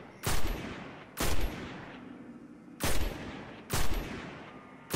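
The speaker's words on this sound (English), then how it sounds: "I recommend just using a auto rifle for this." Bursts of automatic rifle fire in the online shooter game Destiny 2, four loud separate volleys about a second apart, each fading with a short echoing tail and no talk over them.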